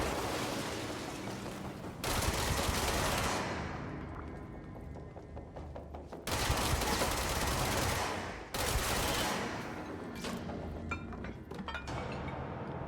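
Gunfire in the video game Control comes in heavy, loud bursts of shredding automatic fire with clinking debris, broken by short pauses as the bursts stop and restart.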